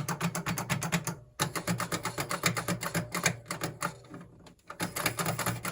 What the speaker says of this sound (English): these are the concave happ buttons